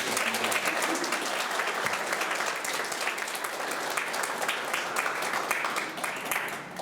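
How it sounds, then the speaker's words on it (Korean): Steady applause from a church congregation during a Father's Day service, loud and continuous with dense clapping throughout and no speech on top. "우리 큰 박수로 보내주시겠습니다."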